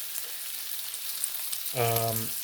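Bacon strips fry spaced apart in a pan, a soft even crackling sizzle throughout, joined near the end by a short tonal hum or whine.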